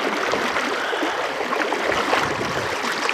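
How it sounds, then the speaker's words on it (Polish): A strong river current rushes through a narrow gap between banks, a steady, loud, broadband roar of fast-flowing water that fills the whole clip without pause. "On powoduje to, że w tej części woda strasznie mocno niesie"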